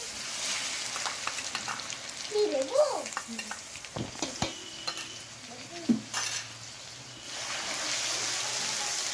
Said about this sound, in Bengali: রসুনটা দিয়ে একটু ভালো করে ভাজা ভাজা করবেন